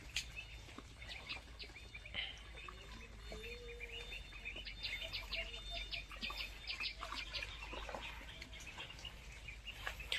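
Ducklings of a local domestic duck breed, in their first days at a farm, give busy high chirping peeps as they move into water, a steady overlapping chatter with light splashing throughout.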